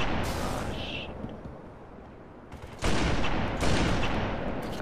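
Gunfire in the video game Halo 3, with bursts of shots that grow louder after a quieter stretch and last most of the span, while players talk over it.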